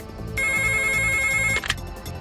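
A cartoon telephone rings at the electricity office in Motu Patlu, a single sustained electronic ring that cuts off abruptly, fairly loud and alone.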